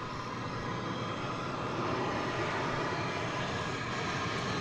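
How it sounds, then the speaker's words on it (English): American Airlines flight from Austin arriving at DFW Airport, a faint, steady broadband jet rumble that stays even throughout, with no voices. "We are on alert now for American Flight 1913 coming in from Austin."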